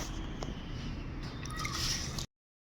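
Tamarind pulp squished and kneaded by hand, a steady wet squelching and dripping close up, continuous for about two seconds before stopping abruptly.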